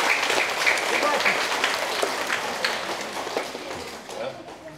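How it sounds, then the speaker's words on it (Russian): Applause at a chess championship event, a crowd clapping steadily for the full length, fairly loud and close, tapering slightly toward the end with voices mixed in. "Всех хлопаем!"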